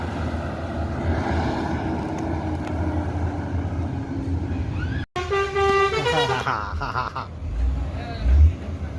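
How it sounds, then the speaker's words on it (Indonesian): A telolet bus horn blares a rapid, warbling multi-tone melody, loud and close, rising out of steady traffic and crowd noise. "Wah, telolet."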